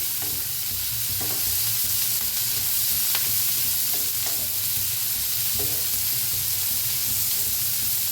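Green chillies sizzle while frying in a pan, a steady close hiss of hot oil with occasional soft stirring scrapes, continuous and even throughout.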